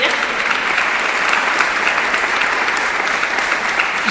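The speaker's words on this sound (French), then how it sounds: "on peut les applaudir." An audience at a business conference applauds after a round-table discussion, a loud, dense, continuous wash of clapping that holds steady throughout.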